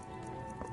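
Horse hooves clip-clopping at a steady ride pace in the video game Skyrim, with an orc rider, set against a continuous game soundscape.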